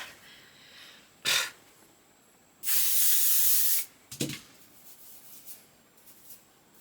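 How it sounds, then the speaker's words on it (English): Strong-hold hairspray hisses from a can in short bursts: a brief spritz, then a longer loud spray of about a second, followed by another quick puff, with quiet between. "that is hairspray. That is strong hold"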